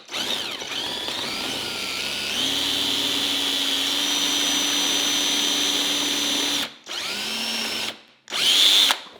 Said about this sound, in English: And take your drill bit.